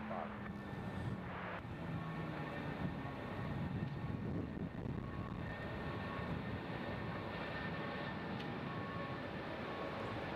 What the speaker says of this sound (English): Taking off on 2 left.